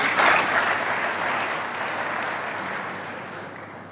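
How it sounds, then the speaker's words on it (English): An audience at a college orientation programme claps, a dense burst of applause that swells at the start and then gradually tapers off over a few seconds. "Please give a huge round of applause to ma'am."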